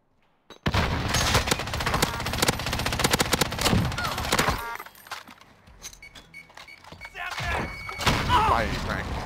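Gunfire in a Warzone-style battle royale video game: dense, rapid bursts of automatic shots close by, dropping off midway and then resuming, with a player talking over the action.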